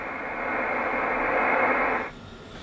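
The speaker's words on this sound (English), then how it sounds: "The sub receiver generates noise." Kenwood TS950S amateur radio transceiver whose sub receiver puts out a steady hiss of broadband static for about two seconds before it cuts off abruptly, heard alone.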